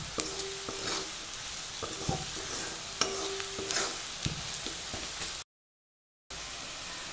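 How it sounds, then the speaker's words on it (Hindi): Chili spice powders roast in a pan for aloo gobi paratha, giving a steady close sizzle broken by scraping stir strokes and light clinks, with a brief silent gap before the frying resumes. "ये जो मिर्च सब पाउडर होता है ना, जो वो सब पाउडर को थोड़ा सा भूनना चाहिए"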